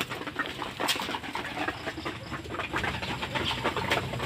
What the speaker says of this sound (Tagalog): magagana pa rin silang kumain. Dapat ganyan yung mga kalapati natin.